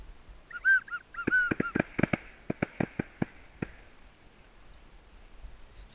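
Several loud honking calls from large ducks at the start, then a run of sharp cracks like distant gunshots over a quiet outdoor background, at an opening-morning duck hunt in Kansas.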